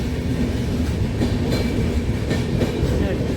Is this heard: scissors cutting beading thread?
no